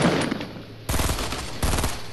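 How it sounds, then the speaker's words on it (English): Rapid bursts of automatic gunfire from a Fortnite match, loud and close, with a dense volley starting midway and another burst near the end over continuous game noise. "Let's start shooting him."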